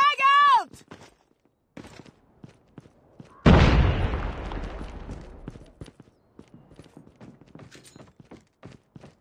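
A frag grenade bursts in Call of Duty Mobile as a loud, close blast that rumbles and fades over a couple of seconds, with scattered footsteps and game sounds around it and a short synthetic chirp just before.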